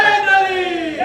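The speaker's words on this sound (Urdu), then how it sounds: "چھوٹے چھوٹے بچے نعرے لگا رہے ہیں" Small children at a majlis shout a religious slogan (naara) in unison, a brief, loud, high-pitched chanted cry from a group of young voices in a hall.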